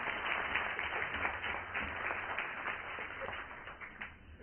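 An audience at an event gives a round of applause, steady scattered clapping of moderate density, somewhat faint and muffled, continuing throughout.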